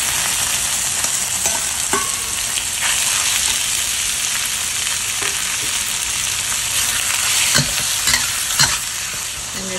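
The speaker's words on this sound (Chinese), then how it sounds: "等佢煎多啲油出嚟先" Pork pieces frying in a wok, rendering out their oil, make a loud, continuous crackling sizzle close up, with scattered sharp pops and spatula scrapes throughout.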